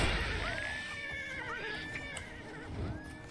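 A horse in the video game Oblivion whinnies several times over steady background noise, giving rising and falling neighs of moderate loudness.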